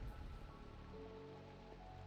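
Rain falls in a Minecraft game world as a faint, steady hiss of drizzle under a low background hum, with no talking.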